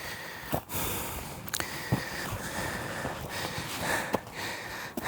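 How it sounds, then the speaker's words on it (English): Heavy, close breathing and sniffing from a hiker on a scouting trail, loud gusts of breath rising and falling close to the microphone, with occasional sharp snorts. "How do you like my breathing?"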